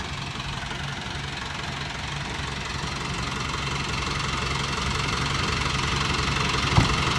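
An Isuzu TFR pickup truck's diesel engine drones steadily and loudly while driving, a continuous rough mechanical roar with one brief knock near the end and no talking.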